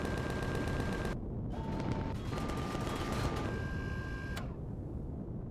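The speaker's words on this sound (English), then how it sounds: "Go on, turrets, kill them." Turrets fire in Empyrion Reforged Eden amid a steady, dense mechanical roar, with rapid repeated shots, thin tonal whines starting and stopping, and brief gaps, all without talk.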